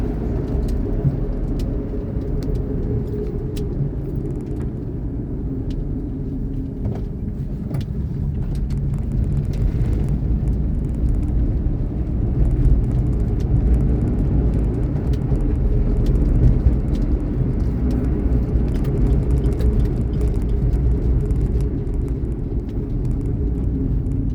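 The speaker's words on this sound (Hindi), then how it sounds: "एक्सेलरेशन आप चेक कर सकते हो 4th गियर में ये। Now 3rd।" Maruti Suzuki Alto K10 accelerating in fourth and then third gear, a steady low engine rumble with road noise filling the cabin, gradually building and holding for over twenty seconds, no talk.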